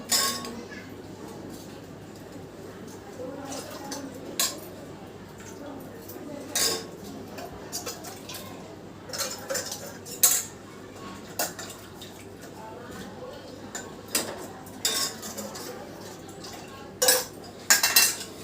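A spoon stirring custard powder into milk in a pot, scattered metallic clinks and scrapes over a low steady hum across the whole stretch, with a faint voice now and then.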